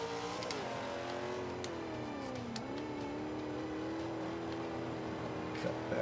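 A car in the racing video game Forza 5 accelerates, its engine climbing, dipping briefly, then rising again in a sustained steady whine with no talk over it.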